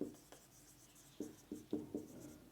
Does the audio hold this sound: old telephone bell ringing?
no